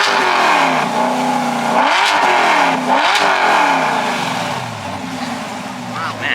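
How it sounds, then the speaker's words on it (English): A Chevrolet Corvette engine revs loudly at a car meet, rising and falling in a few throttle blips over a steady rumble, with crowd noise and voices around it. "I didn't know a Corvette could sound that good"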